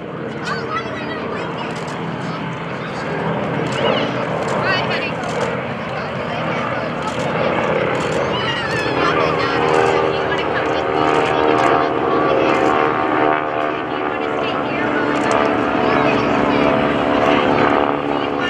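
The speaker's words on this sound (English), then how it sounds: "That's the Stearman with the 450 horsepower Pratt & Whitney putting out the smoke." A Stearman biplane's 450 horsepower Pratt & Whitney radial engine drones loudly and continuously overhead at an airshow, a rough, throbbing roar with a voice talking over it.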